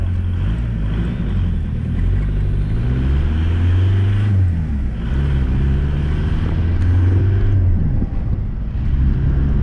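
Diesel TDI engine in a Mk2 Jetta running at full throttle with no muffler, a loud, droning roar that rises and dips in pitch as it pulls, with wind buffeting, close and continuous.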